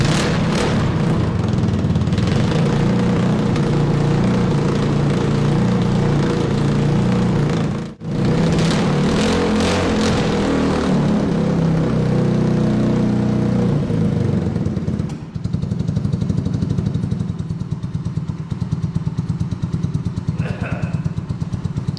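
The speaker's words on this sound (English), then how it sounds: "First start did require some starting fluid, and I'm manually choking it with a piece of cardboard, so it ended up working" A snowmobile bought online from China runs after its first start on starting fluid while being choked by hand with cardboard, giving a loud, uneven engine drone with revs rising and falling, a brief dip near the middle, and speech over it.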